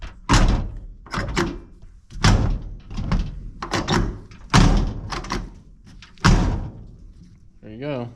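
Several heavy thunks from the door of a 1967 Chevrolet C20 pickup truck being slammed shut, close and loud, spaced a second or two apart, with people talking between the impacts.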